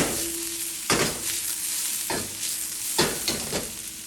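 Shrimp stir-frying in a pot for pineapple fried rice, a steady sizzle broken by several sharp scraping stirs of the utensil against the pot, close and moderately loud with no talking.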